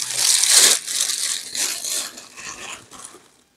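Packaging for a spotting scope being opened, with loud close crinkling and crushing of plastic and paper in bursts that fade out toward the end.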